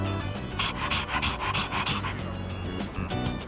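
A dog pants rhythmically in Persona 3 Reload, quick breathy huffs repeating steadily and close over a soft musical background.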